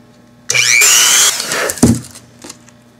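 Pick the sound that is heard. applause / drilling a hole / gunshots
drilling a hole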